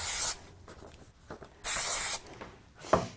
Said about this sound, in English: So I'm just going to give it a light spray.